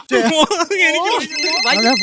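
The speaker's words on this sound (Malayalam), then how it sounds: "ഫോൺ ബെല്ലടിക്കുന്നുണ്ടാ" A phone ringtone plays loudly and close, a repeating melodic electronic tune with no talking.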